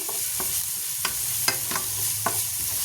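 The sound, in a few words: garlic frying in a pan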